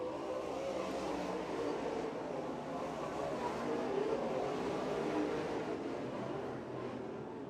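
Modified race cars run on a dirt track at the East Bay WinterNationals, a steady, distant engine roar filling the whole stretch with no clear breaks or speech.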